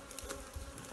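Bees buzz around a Warré hive box in Martinique during a honey harvest, a brief close hum with individual wingbeats flaring in and out.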